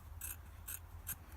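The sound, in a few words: cutting a bit off a part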